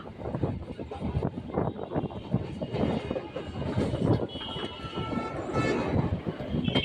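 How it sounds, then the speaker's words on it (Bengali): A Sealdah–Dankuni local train pulling out of Dakshineswar station, a steady broadband rumble of wheels and carriages rolling continuously with faint clatter and some wind buffeting, close and fairly loud throughout. "আমাদের ট্রেন এখন দক্ষিণেশ্বর স্টেশন ছেড়ে বেরিয়ে যাচ্ছে"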